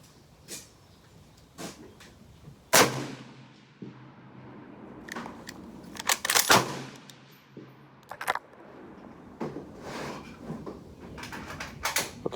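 Sharp, loud reports from an M38 Swedish Mauser rifle in 6.5x55 fired at a military shooting match, with several distant cracks from other shooters at the range and a few nearby handling clicks.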